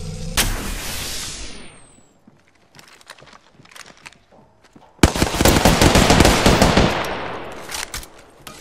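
Heavy gunfire rattles in Apex Legends, with rapid automatic bursts at the start and a louder sustained barrage of shots later, separated by a quieter stretch.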